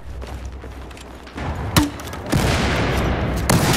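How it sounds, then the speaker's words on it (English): Battlefield 4 combat on the Operation Locker map, with a grenade blast and bursts of gunfire cracking over a dense rumbling battle din, loud and near, with a sharp impact partway through and sustained firing afterward. "He threw a grenade."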